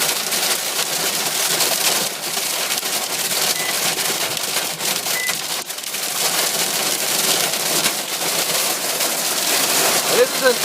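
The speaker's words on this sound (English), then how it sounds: "The hail is absolutely amazing. It's deafening in here." A heavy Arizona hail storm pounds loudly and without a break on the roof and surfaces around a sheltered spot, a dense, deafening clatter that holds for the full length.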